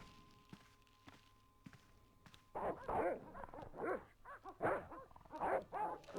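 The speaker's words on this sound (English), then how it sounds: "That's where the dogs are, so we can't go that way." Dogs barking in the point-and-click adventure game Broken Sword, a run of loud, close barks and yaps following a few soft thuds like footsteps.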